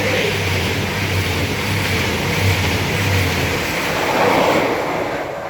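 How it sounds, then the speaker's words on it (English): East Midlands Railway Meridian, a seven-car train running from Nottingham to London St Pancras, passes through Beeston station at speed, heard as a loud, continuous roar and rush of wind with a low rumble. "passing through now will be an East Midlands Railway meridian going from Nottingham to London St"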